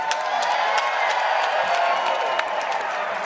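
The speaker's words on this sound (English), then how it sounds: "a round of applause for these two warriors" An arena crowd in Fort Wayne applauds and cheers for two MMA fighters after a three-round bout, a steady wash of clapping with scattered whoops at a distance.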